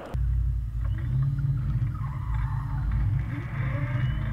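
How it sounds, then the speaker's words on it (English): A car chase from a Jason Bourne film, with a heavy engine rumble and skidding tires squealing through a loud, continuous roar that surges and fades slightly. "car chase scene from, again, Jason Bourne."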